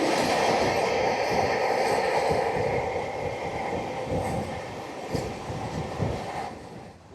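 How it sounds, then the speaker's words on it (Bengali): The Howrah–NJP Vande Bharat Express passes at speed during a crossing, a loud, close rushing roar of wheels and air that starts at full strength and gradually eases off. "ক্রসিং হবে বন্দে ভারতের সঙ্গে"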